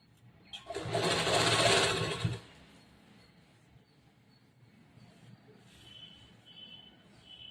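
Sewing machine stitching the side seam of a blouse, a loud close whirring run of about two seconds, then quiet room tone with faint handling of fabric.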